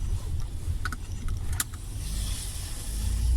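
A car fitted with Matte textile snow socks drives on snow under throttle, a low engine and tyre rumble that swells toward the end, with a few light clicks and rattles inside the cabin.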